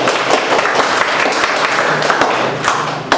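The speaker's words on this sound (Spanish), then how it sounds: "Dame un aplauso al Señor." A congregation claps together during a Spanish-language church service, producing a loud, continuous patter of hand claps with occasional thumps, steady for a few seconds.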